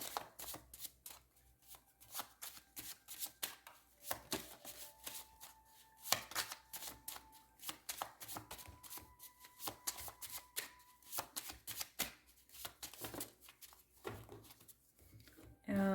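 Tarot cards being shuffled and drawn make rapid, close riffling and flicking bursts in uneven clusters, soft but crisp, alongside someone speaking.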